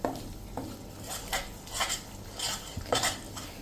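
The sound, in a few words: stirring amaranth flour fudge with ghee in a pan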